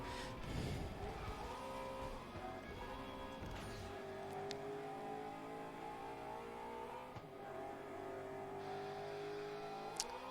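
Car engine in the racing game FlatOut: Ultimate Carnage, a model based on the 1979 Pontiac Trans Am, revving steadily with rising and falling pitch throughout, loud and continuous with no talking.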